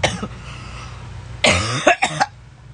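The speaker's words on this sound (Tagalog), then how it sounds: "Parang mamamatay naman ako sa pagka-ubo-ubo ko" A person coughs in a short, hard burst of several harsh coughs, loud and close, after a moment of quieter background noise.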